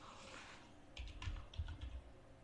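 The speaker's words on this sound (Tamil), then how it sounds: "இன்ஃபோ டைப் பண்ணியிருக்கேன்." Computer keyboard keys tapped in short bursts while a password is entered, a few quick clusters of clicks standing alone over faint room hiss.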